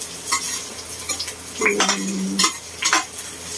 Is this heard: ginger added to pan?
yes